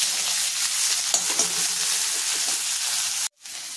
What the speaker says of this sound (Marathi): आता टाकायचा आहे आपल्याला कांदा, चांगला परतून घ्यायचा आहे